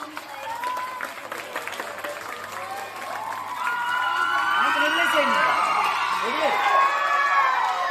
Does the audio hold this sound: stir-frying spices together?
no